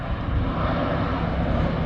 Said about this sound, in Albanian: Në zonë patrullojnë shpesh 2 avion dhe një helikopter, duke hedhur ujë.